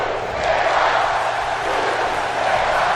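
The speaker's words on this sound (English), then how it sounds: "you can tell who the fans are chanting for" A wrestling crowd in the WWE 2K17 video game chants loudly and continuously, a dense roar of many voices filling the whole stretch without any commentary on top.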